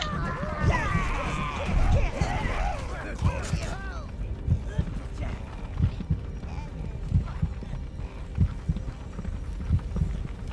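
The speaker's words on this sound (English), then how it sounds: "I apologize for the constant heartbeat sound." A low heartbeat sound effect thumps at a steady, even pace in the video game Overlord: Raising Hell, persisting beneath other in-game sounds and chatter.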